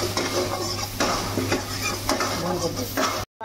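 Onions fry in hot oil with ginger, garlic and green chili, giving a steady close sizzle. Regular stirring scrapes sound over it, and the sound cuts off briefly at the end.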